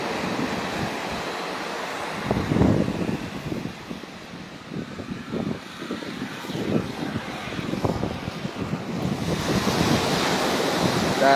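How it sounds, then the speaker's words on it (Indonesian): Calm waves wash onto the sunny east beach at Pangandaran with a steady soft surf roar. A low aircraft drone and light wind sit over the water sound through the whole stretch. "bisa kita lihat ombak yang cukup tenang"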